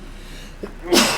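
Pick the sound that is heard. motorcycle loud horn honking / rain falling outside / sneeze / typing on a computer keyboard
sneeze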